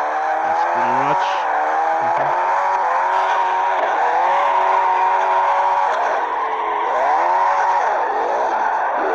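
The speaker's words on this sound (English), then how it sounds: "I'm smashing my car in car wrecks." In a car-wreck video game, a car's engine whines steadily at a loud level with rising and falling pitch. Tire squeal runs under it, and there is no distinct crash impact.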